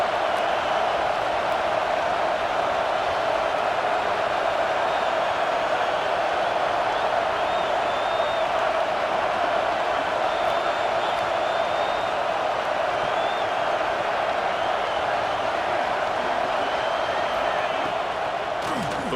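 A stadium crowd roars continuously at a college football game between Tennessee and Texas, a steady, dense wash of cheering with no breaks, heard from within the stands.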